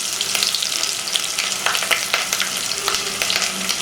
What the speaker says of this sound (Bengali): এবার আমরা ভালোভাবে মশলাগুলোকে নেড়ে চেড়ে নিব।